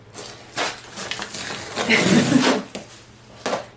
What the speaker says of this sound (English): I had to move that camera to get scissors out of the drawer